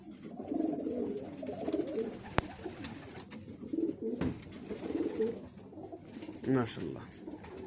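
Pakistani high flyer pigeons in a loft coo softly in repeated, rolling bursts, close and fairly quiet, with a few sharp knocks and someone speaking briefly in between.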